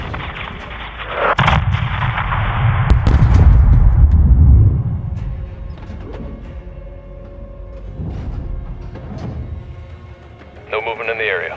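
Missile launch and heavy explosions in the Modern Warfare 2 campaign: a sharp blast leads into a loud, sustained low rumbling roar that slowly fades, with military radio voices talking over it.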